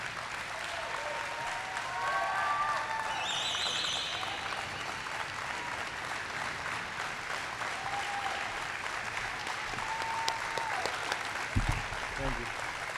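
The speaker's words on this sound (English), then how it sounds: "big round of applause for Francis Alonso" Sustained audience applause fills a basketball jersey retirement ceremony, a steady wash of clapping with crowd whistles, lasting throughout at even loudness before briefly swelling near the end.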